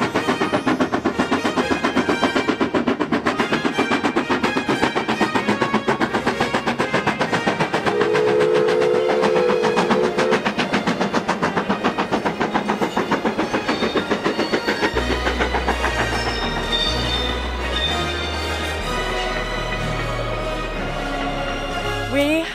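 A steam train crossing Glenfinnan Viaduct in the Scottish winter, with a dense rhythmic chugging and clatter of wheels that stays loud throughout before easing, while a crowd murmurs in the background.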